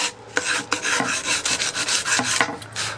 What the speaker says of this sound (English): I did it with a 100 grit sandpaper, those filing marks disappear rapidly